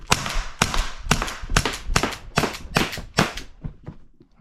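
An Umarex Glock 17 gen5 air pistol fires about eight sharp, evenly spaced shots at a target, loud and close, with the reports fading toward the end.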